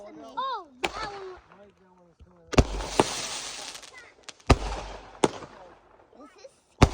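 Fourth of July fireworks bursting nearby, several sharp loud bangs followed by crackling hiss and rumble, with people talking and shouting excitedly between the explosions.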